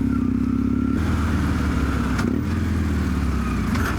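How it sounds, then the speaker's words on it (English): A Yamaha XTZ750 Dakar motorcycle with an aftermarket exhaust rumbles close and loud, its deep engine note steady with a shift in pitch partway through, and no talk. "The low end on this engine with the aftermarket exhaust sounds great."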